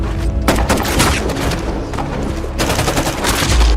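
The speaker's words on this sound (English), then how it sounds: "Bullets rain down as both sides exchange heavy gunfire." Heavy gunfire rattles in dense, overlapping bursts, loud and continuous, with booming shots layered into a chaotic barrage.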